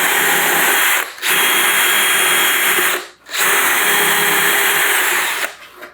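A loud, steady power-drill whine grinds continuously as the bit carves a deer taxidermy form, cutting out briefly three times before revving back up at full strength.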